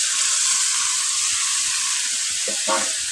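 Cauliflower florets, first soaked in turmeric and salt water, sizzle steadily as they fry in hot spiced oil, a continuous close crackling hiss with a brief stir or shift of the pieces near the end.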